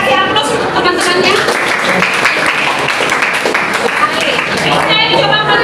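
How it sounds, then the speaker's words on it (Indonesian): Classmates in a classroom break into sustained, dense applause that fills the room evenly from start to finish at close range, with scattered voices mixed in. "kasih aplaus untuk teman-temannya"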